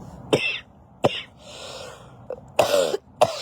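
Several sharp coughs, close by, in short bursts with brief pauses between, plus a throat-clearing rasp in the middle.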